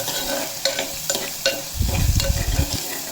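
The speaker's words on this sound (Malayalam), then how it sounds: "ചുവന്നുള്ളി പച്ചമുളക് ഇഞ്ചി കറിവേപ്പില കുറച്ച് ഉലുവയും കൂടിയിട്ട് ഒന്ന് വഴറ്റിയെടുക്കണം കേട്ടോ" Shallots, green chilli, ginger, curry leaves and fenugreek are sautéed in a pan. A few sharp stirring scrapes come first, then a louder burst of close sizzling and spattering, with no talking.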